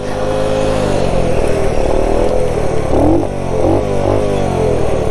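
A 1969 Honda Trail CT90 motorcycle engine labours loudly and close while riding through desert sand, its drone steady with pitch rising and falling as the revs change.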